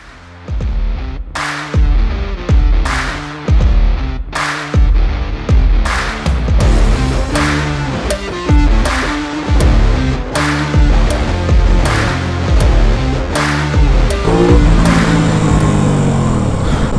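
An Aprilia RS 660 sport motorcycle pulls away and accelerates hard, its engine revving loud and close through a rapid series of rising gear pulls broken by short shift gaps, with no voices.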